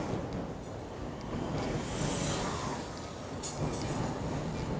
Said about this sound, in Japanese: 駅、電車走ってるんですよね。